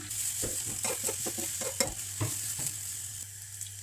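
Soft sizzling of tuna and egg frying in oil in a non-stick pan, with a series of light scraping taps as the pieces are stirred and flipped, quiet and close.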